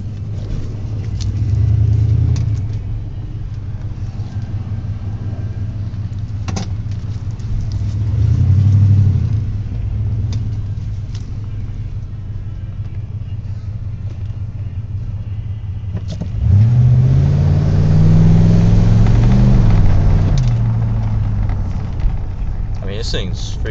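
A fast car with a 5.8 engine rumbles steadily, with a few swells as it revs and accelerates, under loud talking and wind noise.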